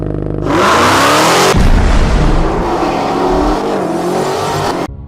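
A supercharged 6.2-liter Hemi Demon V8 engine roars up loudly, surging and revving hard with a throaty, sustained growl before cutting off abruptly.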